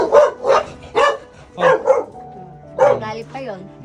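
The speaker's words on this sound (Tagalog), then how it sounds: "At napakaraming alagang aso dito ni Nanay Elsa." Several pet dogs at a family home bark in a run of loud, close, sharp barks, followed by a short pause and more barking with drawn-out yelps.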